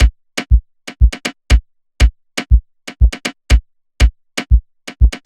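Afrobeats drum loop of crisp rimshots layered over deep kick thumps, a busy syncopated pattern of sharp clicks and low hits repeating steadily, loud and close with no voices.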